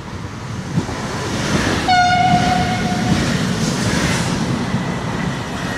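A train runs through a station in Milan with a steady rumbling roll of wheels on track, and a loud horn blast sounds partway through, close and continuous with no voices.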